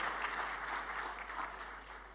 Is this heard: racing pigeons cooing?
no